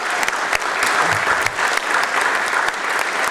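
Applause from members seated in a council chamber during a full council meeting, a steady wash of clapping lasting a few seconds, fairly loud and close, with no talk over it.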